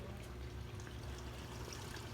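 Water trickles and pours softly in a small garden water feature planted with aquatic plants, a faint, continuous, even babble heard from close by.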